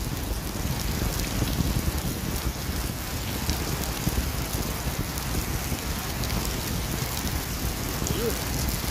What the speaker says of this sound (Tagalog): Lakas pa naman ang ulan. Naabot na nga kami ng ulan.